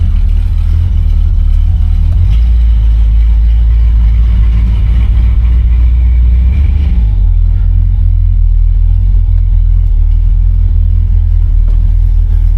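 A 1972 Buick GS sun coupe on the road, its engine a loud, deep rumble heard from inside the cabin, with a shift in pitch partway through as it accelerates.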